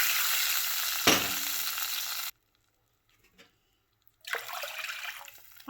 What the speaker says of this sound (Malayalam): 2 കപ്പ് വെള്ളം ഒഴിച്ച് കൊടുക്കുക